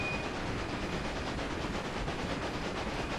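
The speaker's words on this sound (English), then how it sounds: "No, it's just a heavy train, I think, for the Derwent." A heavy train runs steadily in Railway Empire, its faint, even rumble and rolling rail noise going on without a break and with no talk over it.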